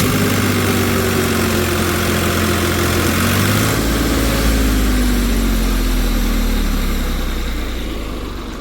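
A tractor engine idles with a low, steady drone while pulling stuck vehicles out off-road, its pitch shifting partway through before the sound slowly fades slightly.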